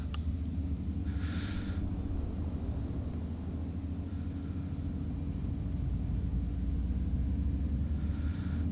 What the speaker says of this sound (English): So we can now start engine 2.